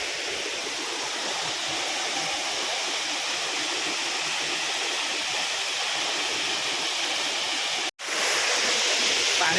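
Midhubanda waterfall at Daringbadi in Kandhamal, a roadside picnic spot, roars steadily and loudly with dense, continuous rushing water, broken by one brief dropout near the end before the torrent resumes.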